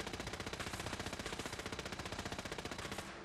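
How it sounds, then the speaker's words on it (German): A laser automatic rifle fires in Fallout 4 as a rapid, evenly spaced stream of sharp shots lasting about three seconds before cutting off. "der hat die Laser-Automatik-Knarre"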